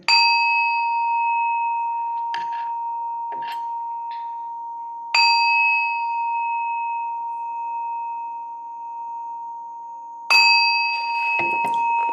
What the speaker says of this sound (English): So here's the three chimes, my tribe.